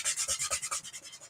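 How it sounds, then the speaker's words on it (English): Quick rhythmic rubbing strokes, about a dozen in a row, as chalk transfer letters are burnished down onto a surface, close and soft, fading slightly toward the end. "So then I'm going to make sure my letters are really burnished down."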